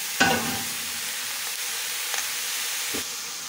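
Keema fries in a kadhai while being stirred, a steady close hiss of sizzling with a sharp scrape at the start and a couple of softer utensil knocks later.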